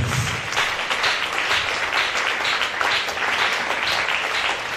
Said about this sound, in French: Put your hands together beautifully for Jesus.